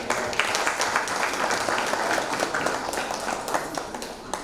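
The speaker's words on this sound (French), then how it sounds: "qu'on devrait applaudir également" An audience at a life celebration event in the USA applauds steadily throughout, a dense, even wash of many hands clapping at moderate loudness.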